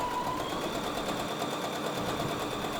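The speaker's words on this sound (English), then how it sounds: "I'm going to sew up the side seams of the dress" A sewing machine runs steadily, stitching the side seams of a linen dress with a continuous fast whirring and needle chatter, close and unbroken throughout.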